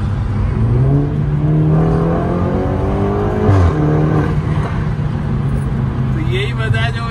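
Stage 2 tuned BMW 330i M Sport accelerating hard, its engine note climbing through the revs, dropping briefly at a downshift, then pulling up again, loud and close throughout.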